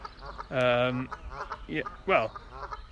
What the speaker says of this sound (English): These ducks are really quacking now.